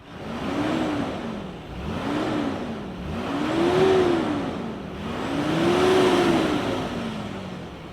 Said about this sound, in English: let's fire up this turbo diesel engine and hear what it sounds like